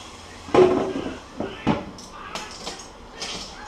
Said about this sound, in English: I need my tongs out to give these sausages a bit of a turn because they are cooking pretty good